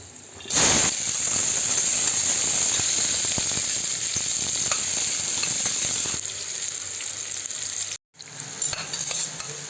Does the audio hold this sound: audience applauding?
no